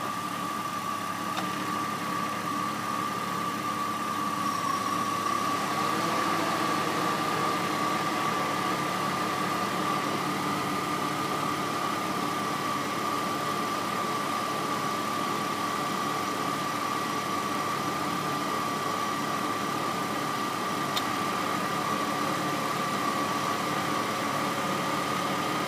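An automatic two-wheel-drive 2002 Jeep Grand Cherokee Laredo with the 4.0 engine idles steadily nearby, a constant even hum and whine with light mechanical ticking and no talk.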